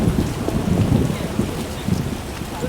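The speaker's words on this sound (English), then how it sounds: "Some serious rain." Heavy rain in The Witcher video game pouring steadily with dense hissing patter and a low rumbling undertone, continuous throughout.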